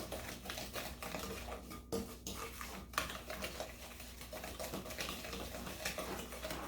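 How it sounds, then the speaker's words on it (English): Chocolate chip cookie dough being mixed in a bowl, a steady clatter and scraping of utensil against the bowl, close and fairly quiet, repeating without a break. "now we're mixing mixing all of this together"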